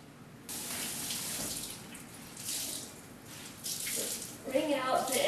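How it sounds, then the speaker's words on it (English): Water splashes and trickles as excess water is wrung out over pita bread dough balls, with brief bursts of dripping and a louder splash near the end, fairly close. "Wring out the excess water over your dough balls and let it rest for about 20 minutes."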